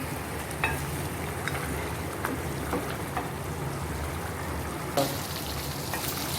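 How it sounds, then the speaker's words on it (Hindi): Mutton karahi meat frying in a wok makes a continuous, fairly loud sizzle and bubbling hiss, with occasional clicks and scrapes of stirring throughout. "हमारी कढ़ाई तैयार हो रही है, गोश्त हमारा भुन रहा है"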